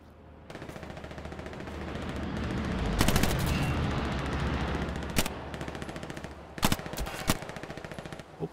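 Machine gun fire in the World War II shooter game Hell Let Loose: a sustained rattling burst of automatic fire over rumbling battlefield ambience, punctuated by a few louder, sharper shots.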